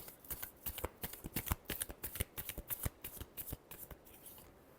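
Tarot cards shuffled by hand in a quick, even series of crisp riffling flicks, close and moderately loud, ending in a brief pause, with no voices.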